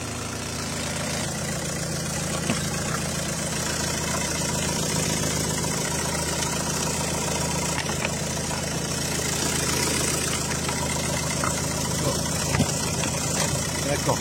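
A Nissan Micra 1.5 dCi diesel engine idles under a hood being serviced, giving a continuous close clattering drone with faint knocks and rattles throughout.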